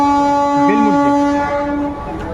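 MEMU local train from Purulia to Howrah arriving at a station, a loud sustained horn blast with a brief pitch wobble, fading slightly toward the end.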